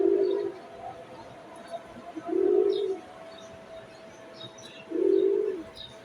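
Three low, soft coos from a Silver Pankhi pigeon, evenly spaced in a quiet room with a faint steady hum and light chirps in the background.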